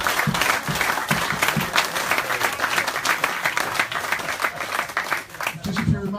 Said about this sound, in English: I want a big round of applause for Tony Jensen next room